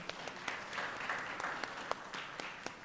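Quiet, sparse clapping from a youth luncheon audience, a thin patter with a few sharper individual claps standing out, fairly soft and distant throughout.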